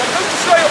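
A waterfall where people bathe pours down as a steady, loud broadband rush of falling water, heard close and alone for under a second.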